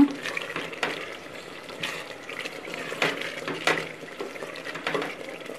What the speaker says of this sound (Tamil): இப்போ இதை நல்லா வதக்கி விட்டுக்கோங்க